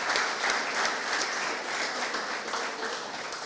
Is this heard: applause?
yes